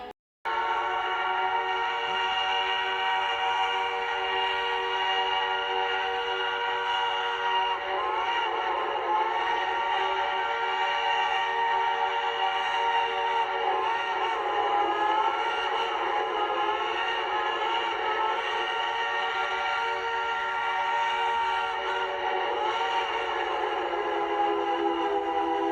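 A long, sustained steam locomotive whistle blares continuously for many seconds, loud and steady with slight wavering in pitch, alone without voices.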